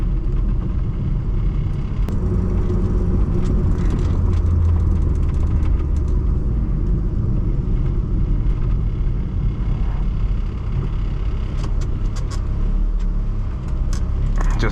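A Fiat Uno on the move, its engine and road rumble droning steadily and loud from inside the cabin, with faint rattles and clicks scattered over the continuous low noise.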